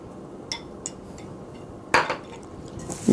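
Popcorn stirred in a bowl, a few light scattered clinks and rustling knocks over a low background hiss, with one louder clatter near the middle.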